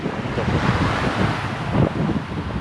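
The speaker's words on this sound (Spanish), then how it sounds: "Es una playa tranquilita, sin tantas olas." Small waves wash steadily onto a calm beach near Montevideo, a continuous soft roar of surf mixed with wind buffeting the microphone.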